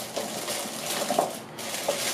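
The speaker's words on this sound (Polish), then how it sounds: "nalewam fasolkę" Bean stew with meat in tomato sauce is poured into a freezer bag, giving a faint, soft, wet gush that runs steadily for a couple of seconds with small splashy peaks.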